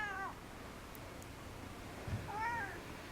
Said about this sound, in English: Cats are so snooty.